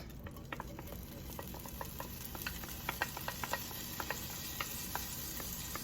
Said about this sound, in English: to this I'm adding 8 cloves of chopped garlic